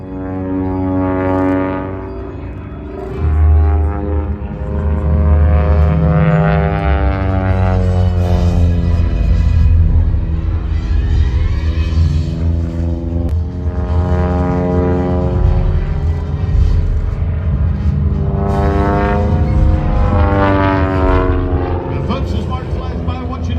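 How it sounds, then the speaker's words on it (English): A 1951 British-built de Havilland Chipmunk, a small propeller aircraft, drones loudly and steadily through a flyby, its engine pitch rising and falling as it passes near, with no talk over it. "Chippy started life as a 1951 British-built de Havilland Chipmunk"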